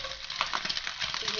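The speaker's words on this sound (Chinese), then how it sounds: "继续炒香" Minced pork with shiitake mushrooms and dried shrimp stir-frying in oil in a flat pan, a dense steady sizzle broken by light scraping and tapping of the spatula.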